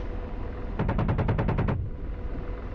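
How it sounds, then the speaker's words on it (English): An Apache attack helicopter's nose gun fires in the combat flight simulator DCS World: one quick burst of about ten sharp, evenly spaced rounds, loud and close, with steady rotor and engine drone continuing underneath. "Expending all of our gun rounds."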